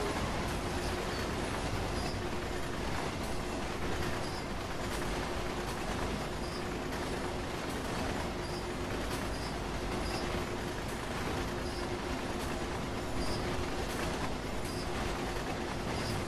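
A DB Regio regional train runs on rails between Lohr station and Gemünden, giving a continuous, loud rumble of wheels on track with steady roar throughout, and no talking.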